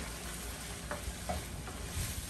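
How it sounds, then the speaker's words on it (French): A ginger and onion sauce with shrimp stock being stirred in a pan, a steady sizzle and frying hiss throughout with a few soft scraping strokes of the spoon, close and fairly loud. "Là, je vais tourner maintenant notre sauce."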